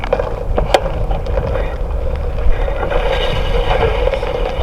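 Small hard wheels of a push scooter rolling over pavement with a constant rumbling whir and occasional clicks and bumps, loud and close.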